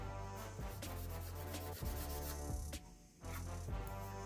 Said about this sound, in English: using an old t-shirt that I was gonna trash. Let's get all this nasty ass Cosmoline off of here.